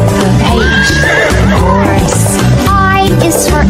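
A horse neighs and whinnies repeatedly in a children's alphabet nursery rhyme, the loud whinnies rising and falling over a steady musical backing.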